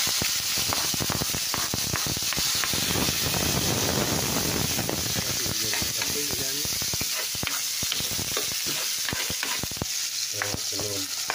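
Onions sautéing in a pan as the base for Filipino-style sautéed mussels, a steady loud sizzle with scraping stir strokes throughout, and brief voice-like sounds near the end.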